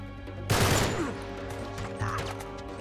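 Gunfire erupts in the video game Uncharted 3: a sudden loud volley of rapid shots that decays into scattered crackling, followed by another burst a moment later, with no one talking.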